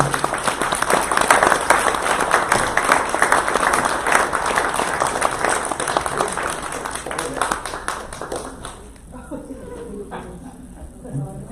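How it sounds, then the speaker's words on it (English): Sustained applause from a church congregation, dense clapping that carries on for several seconds before thinning out, with voices mixed in near the end. "How about a round of applause for everyone?"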